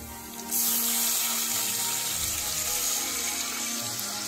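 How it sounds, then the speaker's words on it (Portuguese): Water, 700 ml, poured into a hot pan over browning seasoning, a sudden rushing pour starting after half a second and running steadily, loud and close, with no talking. "Agora eu vou colocar a água,"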